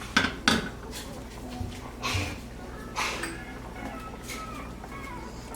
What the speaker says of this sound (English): so next we're just gonna get a different pan